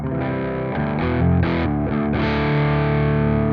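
An electric guitar played through the low-gain channel of a REVV G20 amp capture on a Quad Cortex, mildly gritty tone, sustained chords shifting a few times, with no voices.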